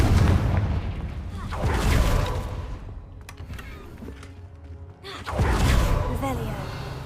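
A fire spell explosion in the video game Hogwarts Legacy: two booming bursts, one early and one near the end, with a quieter stretch between that holds ringing magical tones.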